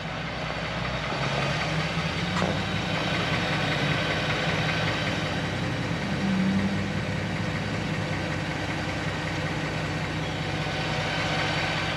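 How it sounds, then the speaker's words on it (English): A 2020 Ford Raptor pickup idles steadily nearby, a constant engine drone carrying a faint transmission whine throughout, with no talking. "one thing else I wanted for you to listen to is a little bit of a whining noise that you hear"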